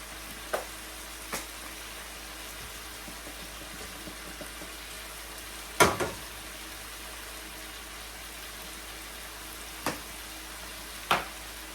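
Oxtail stew simmers in a pot with a soft, steady low sizzle, broken by a few sharp clinks of a spoon against the pot while it is gently stirred and black pepper is added.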